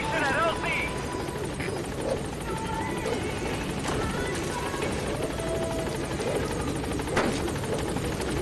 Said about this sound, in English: jumping on the helicopter as soon as it takes off